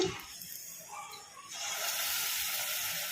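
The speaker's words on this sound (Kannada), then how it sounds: "ಈಗ ಹಿಟ್ಟು ಹಾಕಿದ ಮೇಲೆ ಫ್ಲೇಮು ಲೋ ಫ್ಲೇಮಲ್ಲಿ ಇಟ್ಕೊಂಡು ಫ್ರೈ ಮಾಡ್ಕೋಬೇಕು" Onion Manchurian batter balls frying in oil over a low flame give a continuous bright sizzle and hiss that swells louder partway through and holds steady, with no talking.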